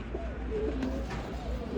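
Soft, low coos from a large racing pigeon repeat close by under a steady background hum, with faint voices mixed in.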